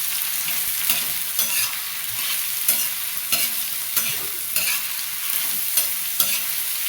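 Chopped onions sauté in hot oil in a pan for ghol leaf bhaji, a steady bright sizzle broken by regular scraping strokes of a stirring spoon, close and fairly loud, with no talking.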